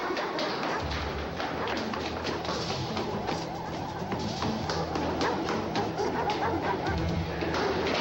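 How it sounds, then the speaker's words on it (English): Big dogs bark repeatedly amid a dense, noisy scene of thumps and clatter, with the barking fairly close and continuous throughout. "Dogs and big ones."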